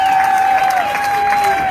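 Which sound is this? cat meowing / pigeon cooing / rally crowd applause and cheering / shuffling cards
rally crowd applause and cheering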